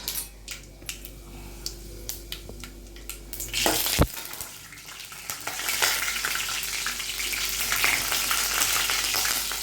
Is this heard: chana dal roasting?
yes